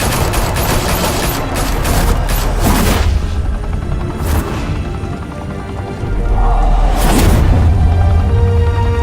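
Rapid gunfire from a fusillade of weapons in the Batman Telltale video game, a dense, loud barrage of overlapping shots and booms rolling on continuously with a few heavier bursts.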